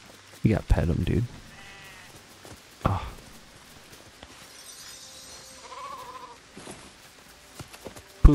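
Sheep bleat a few times in the video game Sekiro, short wavering calls sounding close, with scattered game noises and a person talking around them.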